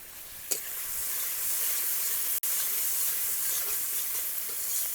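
Turmeric and chilli powder spices fry in oil in a pan for a Bengali egg-ball curry, giving off a steady, soft, bright sizzle and hiss throughout, with a faint tap or two from stirring.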